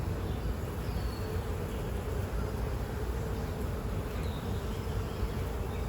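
Honeybees buzzing steadily around an open hive during an inspection, a dense continuous hum close by with no talk over it.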